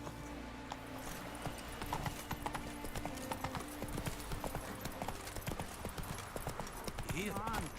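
Roach, a horse in The Witcher 3, clip-clops along in a steady trotting rhythm of hooves, with game voices talking over it and a short whinny near the end.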